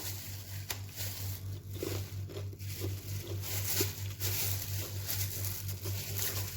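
Crisp crunching of brittle homemade sesame candy, several bites and snaps over a steady low hum, with no voices.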